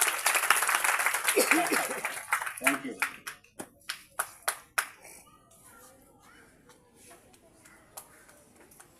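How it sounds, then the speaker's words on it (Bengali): An audience at a Benjon Theatre event at the Shilpakala Academy in Jessore breaks into dense applause, which thins into scattered single claps and fades away, with a brief spoken thanks near the start. "যশোরের মেয়ে, করতালি হবে জোরে।"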